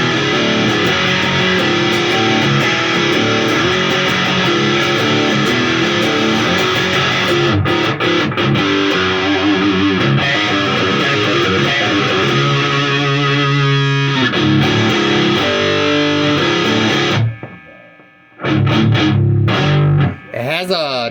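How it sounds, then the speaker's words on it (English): Heavily distorted electric guitar in drop C roars through a Randall Diavlo RDH1 amp, loud sustained chords and riffs that cut off abruptly near the end before a short final burst. "It has a nice distortion ring to it. I love that sound."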